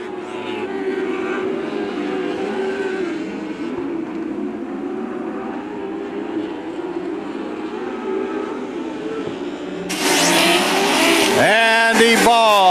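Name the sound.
lightning sprint race cars racing at Macon Speedway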